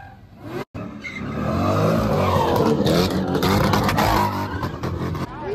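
A car doing donuts on a Maryland street squeals its tires in long, wavering skids over a loud revving engine, near and continuous after a brief cut.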